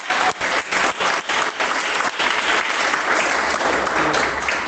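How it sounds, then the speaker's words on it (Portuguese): A church congregation applauds together in a steady, loud burst of clapping that fills the room throughout, dipping briefly near the start. "dar uma salva de palmas bem alegre para Jesus"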